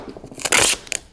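A strip is cut loose during the making of a glass palette, giving a brief crunching, crackling snip that peaks near the middle, with a few softer clicks before and a sharp tick at the end.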